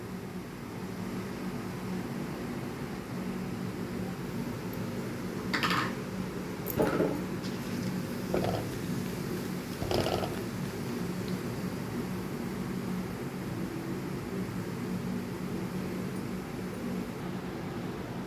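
Whole cumin, bay leaf and cinnamon tempering in hot ghee give a steady frying hiss, with a few sharp crackles and pops standing out partway through; no one speaks.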